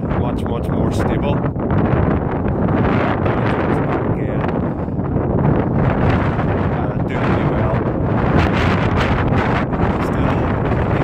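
Strong, constant mountain wind gusts buffet a North Face Westwind tent at a wild camp in the Mourne Mountains, roaring loud and close against the fabric with heavy microphone wind noise while someone speaks briefly.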